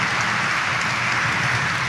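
Devotees at a novena Mass honoring St. John the Baptist clap their hands together, a steady dense wash of applause that holds evenly throughout without pause.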